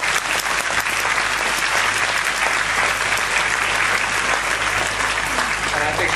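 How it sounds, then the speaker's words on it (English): A crowd at the Badminton Horse Trials in 2008 applauds a horse and rider with loud, dense, sustained clapping that fills the whole stretch, with a voice faintly underneath. "A little round of applause."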